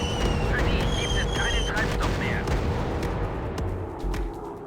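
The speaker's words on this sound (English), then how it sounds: "We're dropping bombs over here. So let's bomb these people" Bombs dropping and exploding in the aerial combat game Warplanes: WW2 Dogfight, a dense run of booms and blasts layered with engine drone and whistling effects, loud and continuous, with a voice talking over it.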